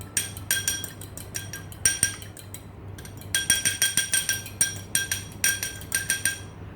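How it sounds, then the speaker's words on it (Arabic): An egg, seasoned with salt and pepper, beaten briskly in a bowl with a utensil, giving quick bursts of bright metallic clinks against the bowl's rim, close and clear, with short pauses between rounds of whisking. "هنبتدي ان احنا نقلب البيضه كويس"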